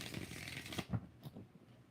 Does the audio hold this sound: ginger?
no